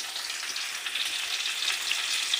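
Food fries in oil in a pan, giving a steady, close, crackling sizzle with no voices over it.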